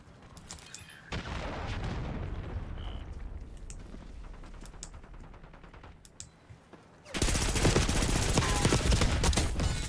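Rapid bursts of automatic gunfire in Call of Duty Black Ops 6, steady shots through the middle that erupt into a louder, denser barrage near the end.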